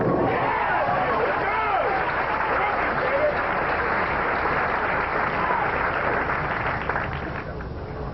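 Bowling crowd at a 1989 professional tour event applauding and cheering loudly and steadily for the full stretch, a dense wash of clapping that eases slightly near the end.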